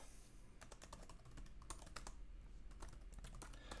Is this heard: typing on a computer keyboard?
yes